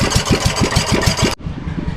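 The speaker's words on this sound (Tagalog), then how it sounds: "One click ang kanilang makina ng Kuya Michael." An engine cranks with rapid rhythmic pulses, then catches and settles into a steady idle, loud and close.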